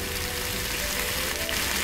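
Chicken breast sizzles in a frying pan with a loud, steady, close hiss that continues without a break.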